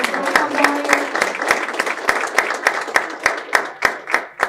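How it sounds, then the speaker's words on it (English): Applause from the audience at a university entrepreneurship club's pitch competition. A close crowd claps briskly, with distinct sharp hand claps standing out and growing more spaced as the round winds down over a few seconds. "So let's give them all a round of applause"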